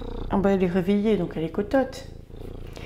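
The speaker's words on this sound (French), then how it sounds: "On va l'entendre ronronner dans le micro." A cat purrs close into a microphone, a steady low rumble running under a woman's high, affectionate voice for most of the short stretch.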